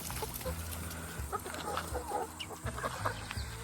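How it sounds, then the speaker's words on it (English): Hens on a homestead farm cluck and chatter in and around their coop as they head out to a pastured run, with several birds calling close by in a steady busy murmur and no talking. "Good morning, chickies. Good morning, ladies."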